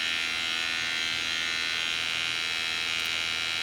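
A Rae Systems QRae 3 gas detector's internal pump runs with a steady, even electric buzz and hiss, close and constant throughout, with no voices.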